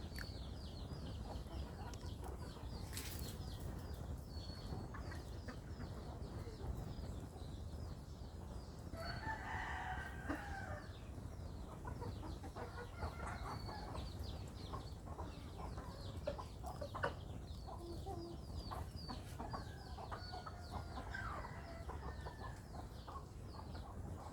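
Hen clucking to call her chicks on a rural farm, with rooster-like calls and soft clucks repeating over steady background noise and scattered bird chirps.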